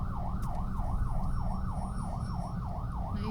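A siren wails at a road accident scene in Muzon, San Jose del Monte, Bulacan, rising and falling in a steady, regular cycle over a deep rumbling engine and street noise, loud and continuous.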